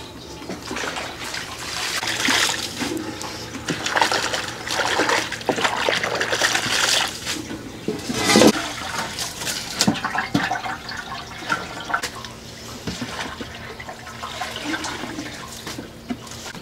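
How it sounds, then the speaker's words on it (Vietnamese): Water splashes and runs over salted radish kimchi being rinsed in a large basin, a steady noisy wash of pouring and sloshing close by, with no talking. "mình sẽ rửa sạch lại với nước nha"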